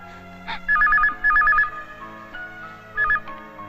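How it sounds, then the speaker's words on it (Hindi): A telephone rings in repeated trilling bursts, three clear electronic ring pulses spaced apart, loud and close against faint background sounds. "जाओ, फोन उठाओ।"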